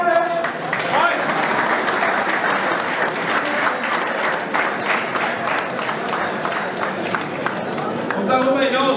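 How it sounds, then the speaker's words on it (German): A crowd at a professional boxing event applauds steadily and loudly, dense clapping sustained throughout without a break. "ein herzlicher Applaus."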